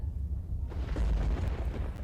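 An electrical distribution transformer explodes in the rain from a short circuit: a deep, rumbling burst erupts suddenly, with a booming low roar and crackling that continues through the rest of the short clip.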